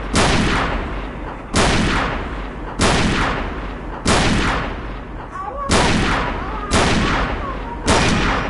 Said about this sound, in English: Let's go to the M1 Grand, the most famous rifle of all time.